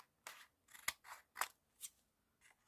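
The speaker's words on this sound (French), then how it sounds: "Je vais couper un petit peu du bord pour que ça puisse rentrer quoi." Scissors snip the edge of a paper card for a handmade illuminated birthday card, making about six crisp separate cuts in an uneven rhythm, close and quiet, with no voice.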